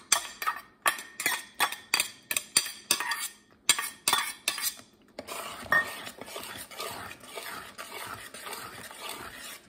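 A spoon stirring diced carrot into a pot of New England clam chowder, starting with a run of sharp, regular clinks against the pot that give way to a softer, steady scraping and sloshing.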